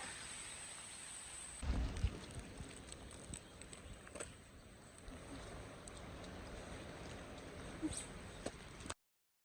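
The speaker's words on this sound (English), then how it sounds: "The rain has picked up a little bit." Steady rain falls during a hike in the Scottish Highlands, a constant broadband wash with scattered drops and a few louder rustles and bumps nearby.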